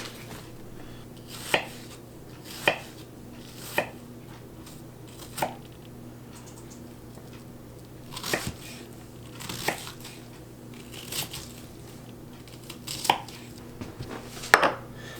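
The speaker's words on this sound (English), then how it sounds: "I like to cut off the ends, then I cut it down the middle" A knife chops food on a cutting board while sloppy joes are prepared, giving about a dozen sharp, irregularly spaced knocks over a quiet, steady background hum.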